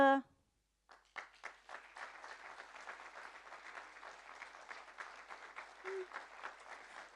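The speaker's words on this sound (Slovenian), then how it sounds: "Kakorkoli, aplavz, tako, tako." After a brief tone and a pause, an audience breaks into applause at a Slovenian tourism event, with a steady, fairly distant patter of many hands and a brief voice partway through.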